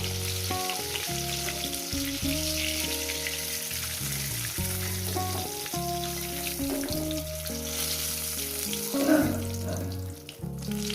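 Fish pieces for a thin fish curry with potatoes fry in hot oil in a pan, giving a steady, loud, close sizzle throughout with brief stirring scrapes. No speech.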